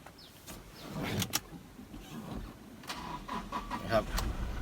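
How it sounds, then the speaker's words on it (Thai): A Toyota Hilux Revo pickup's engine turns over and settles into a quiet, steady idle, with occasional clicks and knocks over the low hum; a person talks nearby throughout. "เดี๋ยวฟังเสียงเครื่องกัน"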